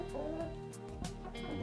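Chickens cluck and murmur inside a coop with a wire mesh floor, a steady soft chorus of low clucks and a few sharper calls over constant background hum.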